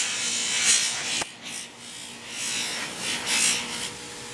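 A clean buffing wheel polishes the edge of an A-TACS camo Kydex sheath, giving a continuous whirring, rubbing hum that rises and dips as the sheath is pressed against the spinning wheel.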